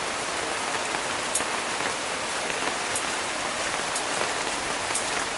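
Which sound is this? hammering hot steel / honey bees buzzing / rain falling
rain falling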